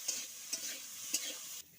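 Green banana pieces fry with mixed spices and salt in a kadai, giving a soft, steady sizzle broken by three quick scraping stirs.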